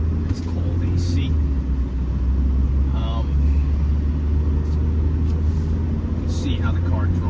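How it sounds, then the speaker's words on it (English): A 1997 Mercedes-Benz C230 W202 is heard from inside while driving, with a steady low engine and road rumble. Someone talks over it throughout. "See how the car drives"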